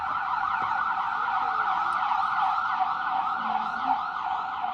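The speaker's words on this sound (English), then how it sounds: "wait for the sirens to pass" Emergency vehicle sirens wail at an outdoor flag raising ceremony, a steady distant sweeping tone with faint traffic and no talking.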